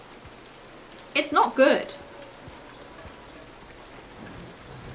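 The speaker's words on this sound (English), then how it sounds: "Did we have to have the rain, you guys?" Steady rain falls throughout in Silent Hill 2, a soft continuous hiss under a brief spoken remark.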